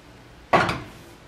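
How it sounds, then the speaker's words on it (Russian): A single short clank of a metal lid set onto a saucepan of simmering quinoa, close by, with a brief ringing tail in a quiet kitchen. "Закрываю кастрюльку крышкой."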